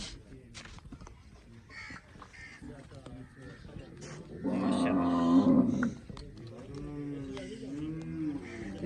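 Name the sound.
cattle at a cow sale, Jersey and Friesian cows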